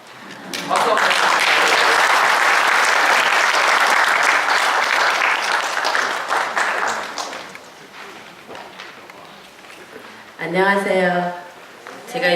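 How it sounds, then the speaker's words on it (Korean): Sustained crowd applause at a live Korean urban-regeneration event fills most of the stretch, steady and dense, tapering off before a person begins speaking near the end. "박수 한번."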